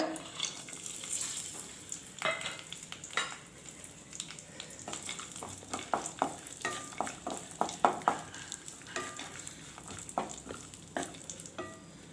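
Almonds and pistachios frying in hot ghee for a sweet, with a steady soft sizzle broken by repeated close scraping and stirring clicks of a spoon against the pan, no voices.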